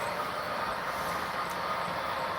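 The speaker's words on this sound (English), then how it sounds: "Here we have a train going down" An HO scale model train runs down a helix on a Union Pacific basement layout, giving a steady, even rumbling and whirring with faint rail noise throughout.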